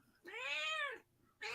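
A small cat gives one long, loud, drawn-out meow close by, then a second meow begins right after a short pause.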